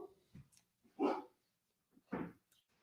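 Dogs barking indoors, a few separate bark bursts at moderate distance with quiet gaps between them.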